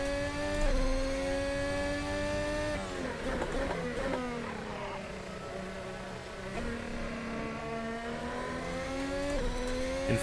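Formula 1 car on a hot lap in a racing video game, a high engine whine rising and falling through gear shifts and corners, steady and close throughout with no talking.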